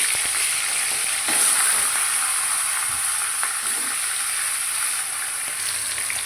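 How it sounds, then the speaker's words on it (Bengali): Fish heads fry in hot oil in a wok, a steady, close sizzle that crackles on throughout with no voices. "মাছের মাথাকে উল্টে পাল্টে ভালো করে ভেজে নেবো।"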